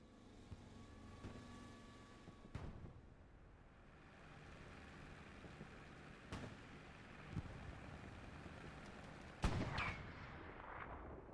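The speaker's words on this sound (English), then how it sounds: "the tanks are already shooting" Tank cannon fire on a battlefield in the game Hell Let Loose: a few sharp, booming shots spaced seconds apart, mid-distance, over a low rumbling wartime ambience with no talk.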